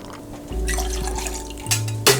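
Two ounces of American whiskey are poured into a cocktail, a brief close liquid trickle and splash followed by a couple of small knocks.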